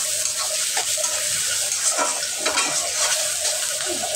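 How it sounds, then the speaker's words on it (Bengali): Prawns frying with onion in a pan at home, a steady broad sizzle with scraping stirs and clinks running throughout, close and alone. "তারপর চিংড়ি মাছ দিয়ে দিলাম, এটাকে ভালো করে ভেজে নিব"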